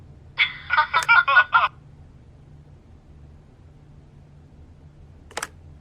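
A short burst of electronic tones from an answering machine in the video game The Wolf Among Us, a rapid warbling series of beeps, followed by quiet and a single brief click a few seconds later.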